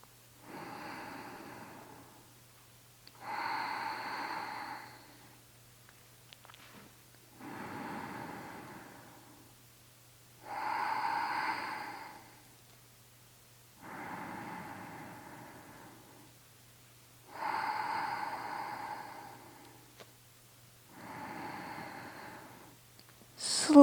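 Deep breathing while holding a yoga bridge pose: slow, even inhale and exhale cycles, each lasting a couple of seconds and audibly rushing, repeated about seven times close to the mic over a faint low hum.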